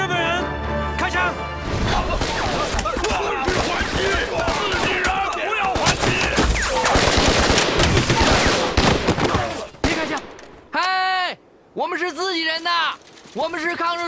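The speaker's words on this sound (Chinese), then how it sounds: "他们是日本人，开枪！" Gunfire in a Chinese war drama set during the anti-Japanese resistance: several seconds of dense, loud shots and crashes, then voices shouting in short bursts.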